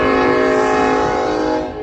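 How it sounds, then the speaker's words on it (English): Southern Pacific 1996 heritage locomotive leading a Union Pacific manifest freight through Metairie, its multi-chime horn blaring in one loud, sustained, close blast that tails off slightly at the end. "first train of today in Metairie with Southern Pacific"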